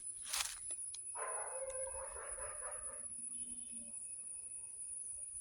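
A dog at a nearby house barks faintly from a distance in a few short bursts over a quiet outdoor background with a steady high insect-like whine.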